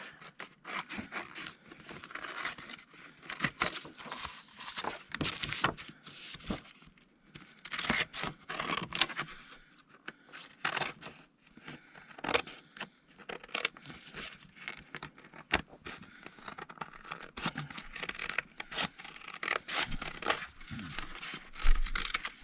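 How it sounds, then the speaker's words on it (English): Excess paper being cut away while making ephemera: faint, close, intermittent snipping, rustling and crinkling in short bursts over a quiet room. "So then you can cut off this excess."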